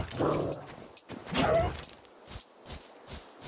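Dogs in the video game Dysmantle barking and whimpering, a few short yips and bursts close by with brief gaps between them.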